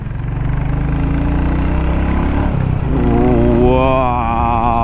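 A 2021 Royal Enfield Classic 350 single-cylinder motorcycle runs steadily with a loud, close engine and exhaust drone, its pitch climbing as it revs up in the last couple of seconds.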